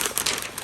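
Butcher paper crinkles as it is folded and turned around a fat-side-up brisket flat, giving a short burst of close, dry rustling with no talking.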